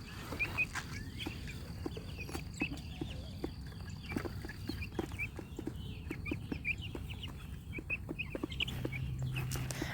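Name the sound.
meat chickens clucking in a chicken tractor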